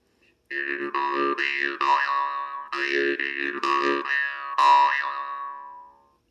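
Russian jaw harp (vargan) twanging in a quick series of plucked notes, each with a buzzy, vowel-like wah sweep, ending on a longer fading twang.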